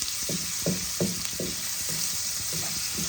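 Hot oil with turmeric and salt sizzles steadily, overlaid by a regular series of soft scraping strokes as the pan is stirred, close and moderately loud with no voices.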